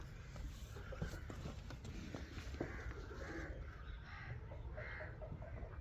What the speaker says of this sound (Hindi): सिर्फ परिंदों की चहचहाट की आवाज़ आ रही है।